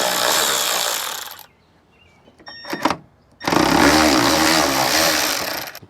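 Power tool driving an 8mm socket to remove two screws while a rear-view mirror dash cam is installed in a car: two long whirring bursts at close range, separated by a few short clicks and clunks, no talking.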